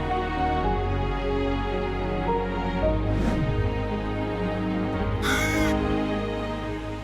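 A raven caws, harsh and fairly close, standing out over a constant bed of sustained music.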